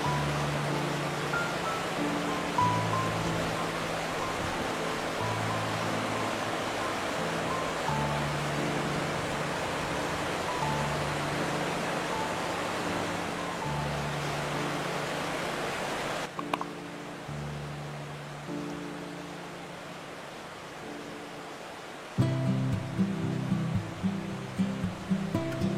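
The Fouge waterfall, a cascade over 60 m high plunging in two drops through a steep valley, roars as a steady broadband rush of falling water, with music playing softly underneath.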